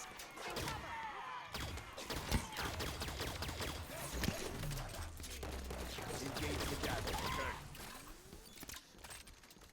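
Carbine gunfire in Halo 5: Guardians, a rapid run of sharp shots and impacts amid dense battle noise, with thuds and mechanical clanks woven through.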